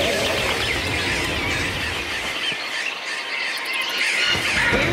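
A huge flock of passenger pigeons in a German animated cartoon makes a dense, continuous mass of squealing, squawking bird calls over a rushing wash of noise, loud and unbroken for the whole stretch.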